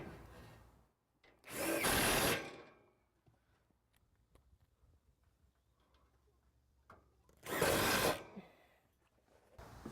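A power drill drives screws to attach carriers to an under-deck joist, two loud short whirring bursts separated by a quiet pause with faint clicks and taps.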